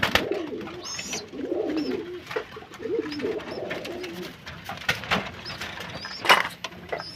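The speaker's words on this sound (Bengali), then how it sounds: "ধাড়িগুলো খাওয়ার জন্য কেমন করছে ছটপট করছে" Hungry adult pigeons in a loft coo and bustle in eager bursts, waiting to be fed, with occasional sharp knocks and flutters close by.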